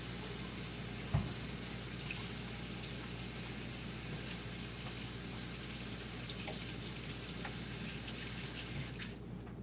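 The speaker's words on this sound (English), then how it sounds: "And I'm just gonna wash my hands." A kitchen tap runs steadily while hands are washed under it, a constant close hiss of flowing water with faint splashes and a brief knock early on, stopping just before the end.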